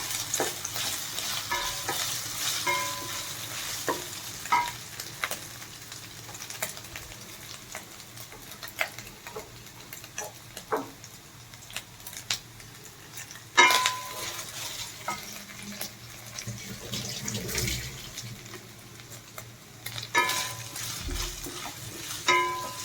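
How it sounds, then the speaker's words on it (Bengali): Potato pieces fry in a pan with ginger paste for sabudana khichdi, a soft continuous sizzle broken by repeated spatula scrapes and stirring clatters. "আদার পেস্ট দিয়ে দিলাম, মোটামুটি ভাজা হয়ে এসেছে।"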